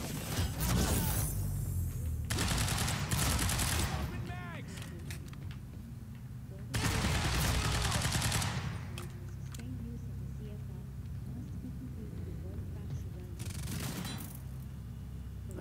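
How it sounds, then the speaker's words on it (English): An Advanced SMG fires in Quantum Break in several dense bursts of rapid shots, each lasting one to two seconds with quiet gaps between them, and a voice speaks in the pauses. "Advanced SMG."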